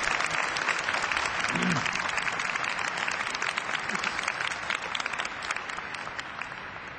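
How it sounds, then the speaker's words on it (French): A church congregation at a Sunday evening Mass applauds in a steady, sustained wash of clapping, moderately distant and reverberant, with a brief voice underneath. "On peut l'applaudir pour la première fois."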